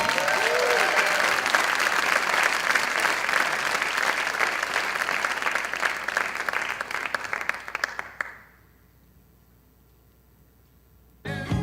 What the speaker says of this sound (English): Will you please give a round of applause for Kim Cofino?